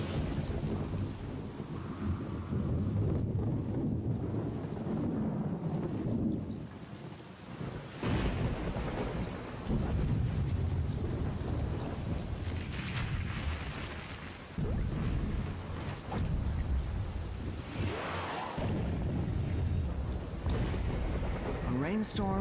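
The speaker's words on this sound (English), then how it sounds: "A rainstorm can be deadly." A heavy rainstorm with thunder: dense, steady rain roaring close by while deep rolls of thunder swell and fade several times, filling the whole stretch without pause.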